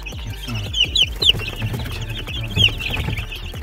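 High, thin peeping calls from chicks repeat in short bursts over soft clucking and low rustling nearby.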